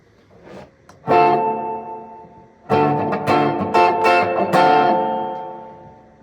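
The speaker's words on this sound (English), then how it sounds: "Settings 8 through 11 are going to be straight reverb here." Electric guitar chords through a Boss RV-3 Digital Reverb/Delay pedal on a straight reverb setting ring out with a lush, spacious reverb, each strum trailing off in a long wash of sound; a short picked phrase comes first.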